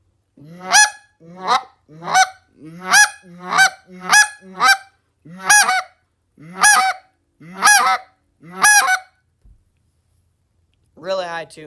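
A hand-held goose call honks in a rapid series of paired notes, imitating two geese, loud and close, with a pause before a final burst.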